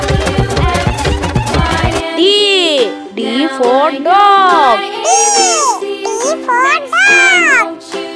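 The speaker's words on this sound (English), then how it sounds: "C for cat." Several cat meows in a row, bright rising-and-falling calls following a short burst of music, clear and close with no talk over them.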